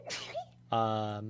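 A single short, close sneeze bursts out, followed immediately by a person speaking briefly.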